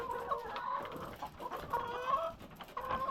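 Poultry chickens on a farm clucking in short repeated bursts, close and fairly clear, with several hens calling over one another.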